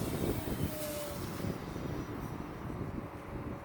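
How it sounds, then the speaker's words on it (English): Strong, gusty outdoor wind buffets the microphone with a steady broadband roar that swells and eases, and a faint model-plane motor hums briefly in the background. "Kind of crazy wind out there."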